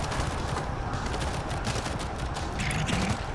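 Machine gun fire in the World War Z video game during a zombie horde fight: a dense, continuous burst of rapid shots at close range, loud and sustained throughout, with no speech.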